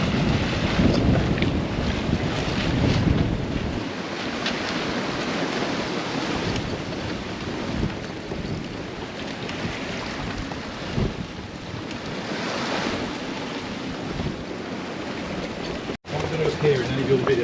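Sailboat crossing the sea off the Welsh coast between Puffin Island and Deganwy, with strong wind buffeting the microphone over the wash of water and waves against the hull.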